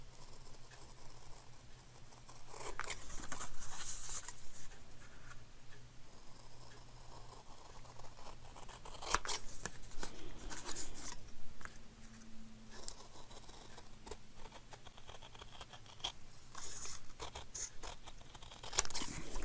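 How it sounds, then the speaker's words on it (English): Scissors cut paper numbers off a sheet with soft, repeated snips and rustling scrapes, quiet and close, without speech. "So all you do is you just cut the numbers off."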